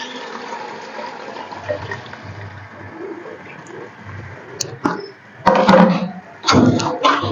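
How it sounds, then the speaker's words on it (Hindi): Chicken stock (yakhni) poured from a container into a pot of chicken pulao, with a soft background hum and then two loud bursts of splashing, gushing liquid near the end. "ये यखनी है, ये मैंने नाप के रख डाली हुई थी, ये सारी डाल देनी है हमने"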